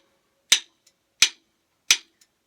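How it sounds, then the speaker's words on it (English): Drumsticks clicked together in a steady pulse, three sharp, evenly spaced clicks with no accent and no talk. "There'll be no emphasis, just clicking of the sticks, and then they'll play."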